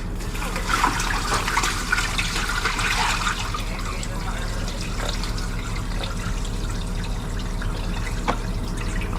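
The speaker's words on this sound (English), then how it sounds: "Let me pour out all this water so I don't, like, spill into it." Water poured out of a bucket in a home garage beside a car: a splashing rush for about three seconds that thins into a faint trickle and scattered drips.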